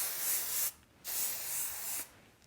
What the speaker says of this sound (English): we're gonna take a little bit of hairspray